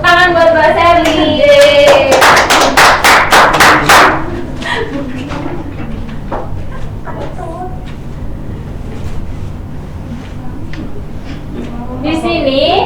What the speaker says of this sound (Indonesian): Tepuk tangan buat Mbak Sally.